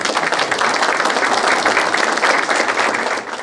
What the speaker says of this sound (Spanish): Recibamos con un caluroso aplauso entonces al doctor Hugo